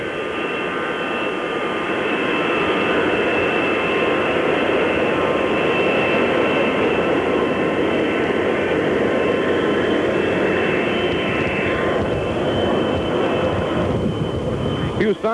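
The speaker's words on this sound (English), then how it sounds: "the noise you hear in the background is that of a commercial jet going out to take off" Commercial jet taking off near a crowd at the Dallas-Fort Worth area airport, a steady broad engine roar with a high whine that holds for the whole stretch, loud and continuous.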